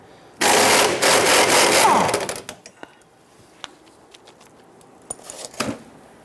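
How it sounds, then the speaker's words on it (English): A fuel tank strap bolt on a Jeep Grand Cherokee being loosened: a loud, rapid, rattling power-tool burst of about two seconds close by, followed by scattered small metallic clicks and knocks. "I'm going to loosen and remove this bolt here."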